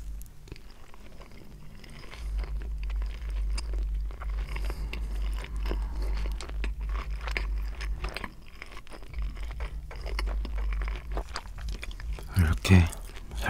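Seasoned fried chicken is bitten and chewed close to the mic in soft, irregular crunches and mouth sounds over a low rumble, ending with one louder crunchy bite.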